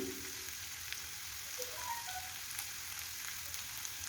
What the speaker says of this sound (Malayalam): വെളിച്ചെണ്ണ ഒന്ന് ചൂടായി വന്നപ്പോൾ ഞാൻ ചെറുതായി കട്ട് ചെയ്ത് വെച്ചിട്ടുള്ള ഇഞ്ചി ഇട്ട് കൊടുക്കുന്നുണ്ട്